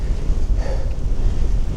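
A strong headwind roars across the microphone during a bicycle ride, a steady, loud, low rumbling buffet with no voices.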